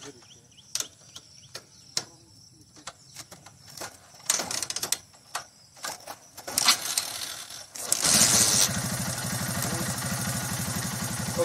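A 2008 Hero Honda Karizma motorcycle with a weak battery is coaxed into life: scattered clicks and short cranking bursts, then the engine catches and settles into a steady, close idle for the last few seconds.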